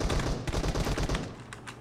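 Rapid automatic M416 rifle fire in a PUBG team deathmatch game: loud, dense, continuous bursts of shots with no talking.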